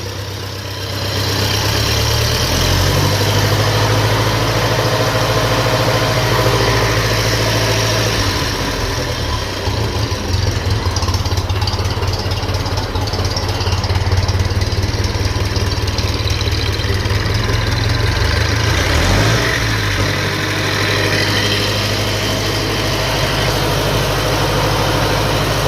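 A 1957 Ferguson FE35 tractor running on TVO idles steadily, a loud low throbbing engine drone with a constant vibration lasting throughout, revs shifting slightly near the end.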